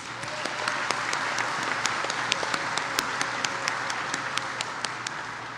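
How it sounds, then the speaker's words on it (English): Graduates at a medical sciences graduation ceremony give a sustained round of applause, a dense steady wash of many hands clapping with sharper individual claps standing out, heard from within the crowd. "Fellow graduates, let's give ourselves a much-deserved round of applause."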